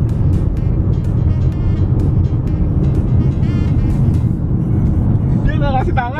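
A car on an Australian outback road, heard as a loud, steady engine and road drone from inside a vehicle, with people talking over it.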